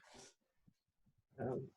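A black dog whimpering indoors beside a person: soft, faint whines and snuffles with two louder breathy bursts at the start and end, close but quiet.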